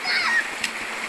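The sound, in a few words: splashing while bathing in a river in Palawan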